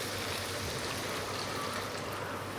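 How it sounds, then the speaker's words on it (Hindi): About half a litre of water is poured from a small vessel into a cooking pot of drumstick curry, making a steady, even rushing pour that fills the whole moment with no speech. "इसमें हम पानी ऐड कर देंगे सारा"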